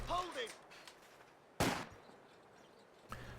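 Artillery and gunfire in a Company of Heroes 2 multiplayer match, with a sharp close blast midway and smaller bursts at the start and end, under quiet commentary-like background voices.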